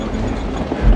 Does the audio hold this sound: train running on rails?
yes